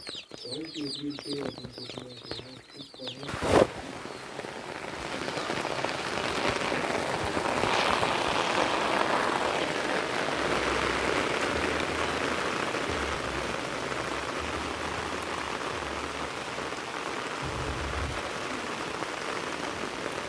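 Steady rain patters and hisses across a surface throughout, filling a rainwater collection tank, with a sharp knock near the start and faint low sounds underneath.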